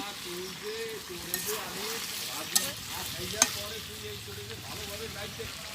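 Garlic frying for a village-style duck curry, a moderate sizzle under steady stirring, with two or three sharp clinks of the spoon on the pot.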